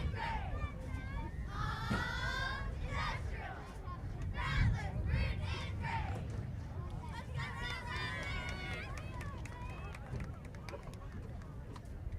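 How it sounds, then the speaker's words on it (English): A seventh-grade school basketball game crowd fills the gym with continuous shouting, cheering and chant-like yells, a busy wash of many voices with louder bursts throughout. "Pick up some crowd noise tonight and the cheerleaders."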